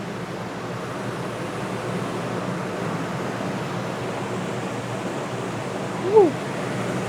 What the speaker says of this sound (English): That's high air conditioner, max cold.